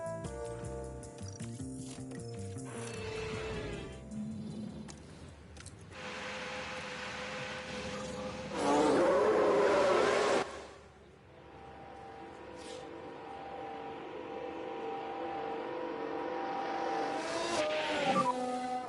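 Race cars in the F1 Manager 23 video game pull out of the garage for a wet-weather session in Montreal, engine tones rising and falling steadily, with a louder burst midway, over a constant layer of game ambience.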